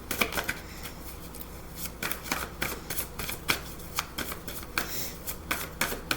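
Tarot cards are shuffled by hand in a steady run of quick, crisp riffling flutters close to the listener, with no talk over them.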